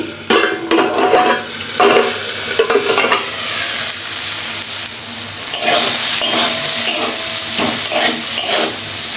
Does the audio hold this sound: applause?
no